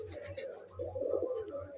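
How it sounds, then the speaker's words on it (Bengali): Pigeons cooing in a loft at night, a steady chorus of low throaty coos running through the whole stretch, close and moderately loud with faint bird chirps above. "হঠাৎ আমাকে দেখেই এ ডাকাডাকি শুরু করে দিয়েছে।"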